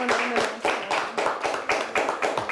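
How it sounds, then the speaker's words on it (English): Audience applause for two high school quiz teams, Ionia and Traverse City Central, at the close of a televised quiz show game; steady, dense clapping with a rhythmic pulse, fairly close and loud throughout, with no talking. "Let's give them both a nice big round of applause"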